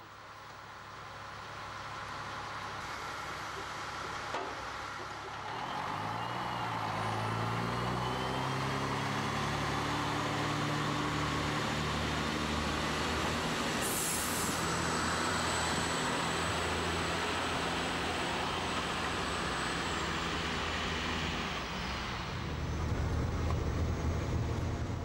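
A train departs Naumburg an der Saale on the Unstrut line, its engine rising in a sweep of climbing tones as it accelerates, a long high whine holding alongside before the sound drops off.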